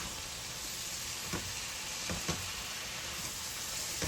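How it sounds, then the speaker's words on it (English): Steady sizzling of cabbage frying in a pan, with a constant hiss and a few brief louder crackles and pops. "Now you can see it's drying up beautifully, bubbling away."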